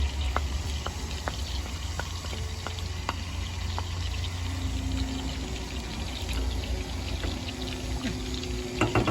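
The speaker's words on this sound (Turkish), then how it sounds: "Pirinçler pişti mi süzüyoruz bunu" Cooked rice being drained, a steady rush of water pouring through a strainer with faint clinks and taps, continuous at moderate level with no talking.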